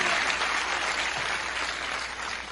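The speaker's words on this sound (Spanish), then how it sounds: "Un gran aplauso para todos." An audience at a business meeting applauds, a dense, steady wash of clapping that holds loud throughout and eases slightly near the end.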